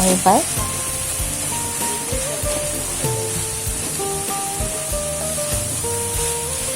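Bori lentil dumplings dropped into hot oil for banana flower ghonto set off a loud sizzle with a sharp burst at the start, then steady frying with light stirring and clinks of a utensil.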